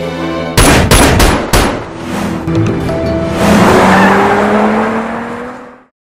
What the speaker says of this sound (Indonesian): Gon pun langsung menembak Mokyung dan segera pergi dari rumah itu